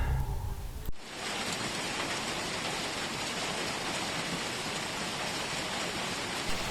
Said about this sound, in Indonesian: Hanya terdengar suara hujan yang deras di luar sana.